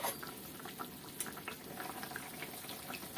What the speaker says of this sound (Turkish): Birazcık daha kaynasın.